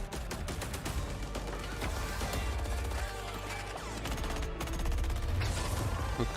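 Dense, continuous video game gunfire and crashing effects from an EA Play 2021 game trailer, with bursts and impacts piling on top of one another over a loud, layered mix.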